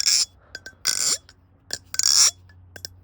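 Several quick metallic flicks and snaps of a freshly oiled folding knife blade opening and closing, without a dry, high-pitched end sound, close up, in bursts with short pauses between them.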